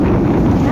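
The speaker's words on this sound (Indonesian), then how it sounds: "Angin kuat pak." Strong wind blowing hard across an outdoor microphone, a loud, continuous low buffeting rush lasting under a second, with no voices.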